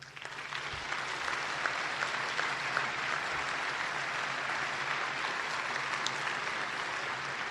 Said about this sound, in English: the entire room is standing and applauding Sarah Brady